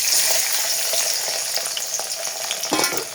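Chopped garlic sizzles in hot oil for a Bombay green chili pickle, a steady, close hiss of frying with faint bubbling and no talking.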